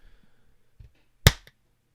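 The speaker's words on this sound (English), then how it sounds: "Did have quite an effeminate clap actually" A single sharp hand clap, loud and close, ringing out alone in a quiet room and cutting a clean spike for syncing.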